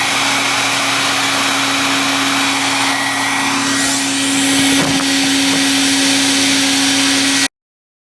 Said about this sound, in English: I guess keep blow drying.